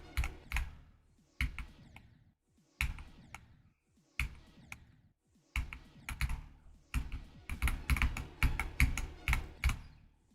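Computer keyboard typing during a Geometry Dash game stream, bursts of quick, close, clicky keystrokes separated by short pauses, growing denser and louder toward the end.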